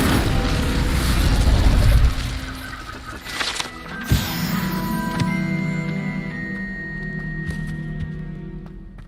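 An Incendio fire spell is cast in a Hogwarts video game, a loud whooshing roar that swells and fades, followed by a bright metallic crack and ringing mechanical tones that die away slowly, with no talk.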